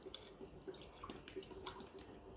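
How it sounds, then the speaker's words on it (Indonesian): Mineral water is splashed by hand into an African bullfrog enclosure, giving faint, scattered drips and small splashes at an irregular pace, close but quiet. "Ini airnya disiram-siram ke sini."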